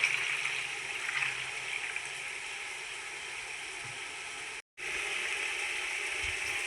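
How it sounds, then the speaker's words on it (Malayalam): Water poured steadily into a pot of Palakkadan Rawther mutton dum biryani, a continuous splashing rush with a brief break near the end. "ഇനി നമുക്ക് ഇതിലേക്ക് വെള്ളം ചേർത്ത് കൊടുക്കാം."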